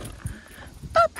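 A puppy outdoors in Surrey, British Columbia, gives a short, sharp yip near the end, loud and close, after a quiet stretch of background noise.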